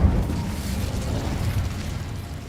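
The Incendio fire spell in Hogwarts Legacy erupts with a loud, deep fiery rumble that fills the whole moment, a dense burst of flame with no voices over it.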